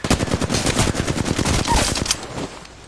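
Rapid machine gun fire in Apex Legends, a dense burst of evenly spaced shots that stays loud and close for over two seconds, then cuts off into a faint tail.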